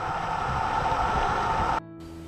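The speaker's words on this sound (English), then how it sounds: "Here's the first waterfall I've seen." A waterfall beside the Appalachian Trail in Tennessee after rain, heard as a loud, broad, steady rushing roar that cuts off abruptly near the end.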